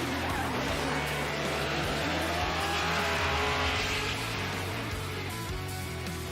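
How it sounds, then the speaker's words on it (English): Formula Drift cars in a Top 32 competition round at St. Louis, engines roaring loud and continuous with sustained tire squeal and screech throughout, no talk. "Cars across the finish."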